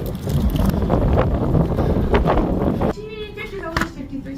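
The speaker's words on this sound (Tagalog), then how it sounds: "So malakas ang hangin ngayon, no?" Heavy autumn wind in Canada buffets the microphone in a loud, steady roar, then eases as a voice speaks over a lighter rumble.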